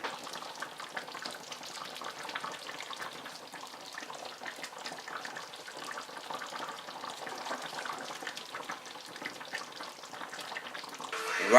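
Lamb meatballs fry in a pan with a continuous, moderately loud crackling sizzle, ending in a short louder burst.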